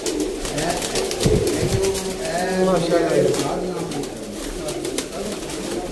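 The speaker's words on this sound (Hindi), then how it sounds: "चैंपियन टैडी कबूतर दोस्तों, स्लेटे चूहे कबूतर" Teddy and slate pigeons coo steadily at close range, a dense layered murmur of several birds at a Sialkot pigeon sale, while someone talks over them now and then.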